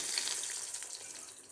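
Crispy corn cheese balls frying in a pan on medium heat, a steady soft sizzle throughout with no talking.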